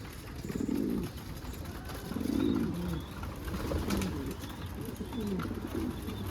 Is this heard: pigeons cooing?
yes